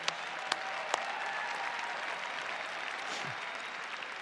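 Sustained applause from a large conference audience at a Nu Skin Empower Session, an even wash of clapping with a few sharper claps standing out near the start.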